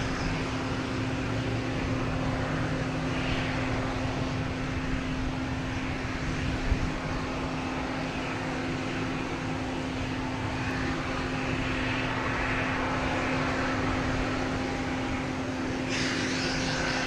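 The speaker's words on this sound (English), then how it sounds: "next to arrive, we have United Airlines coming in from Chicago, 737 MAX 9" A United Airlines Boeing 737 MAX 9 arriving from Chicago at Boston Logan, a steady broad engine roar with a strong sustained tone, continuous and fairly loud, no voices.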